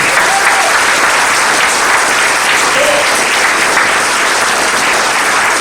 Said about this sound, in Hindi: दोस्तों जोरदार तालियां लीजिए